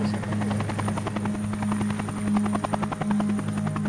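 Close, continuous helicopter engine whine with a rapid rhythmic rotor chop, loud and steady throughout.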